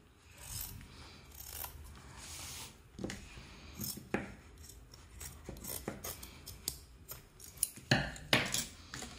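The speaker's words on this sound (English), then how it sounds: "let me just cut" Scissors snipping through cloth for a handmade book cover, a series of close, crisp cuts and metallic clicks at an irregular pace, fairly quiet and with no talking.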